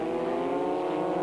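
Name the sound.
Formula Vauxhall Junior race cars at Ingliston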